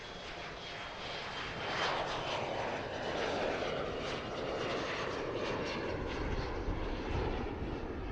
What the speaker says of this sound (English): Oh, this one's taking off.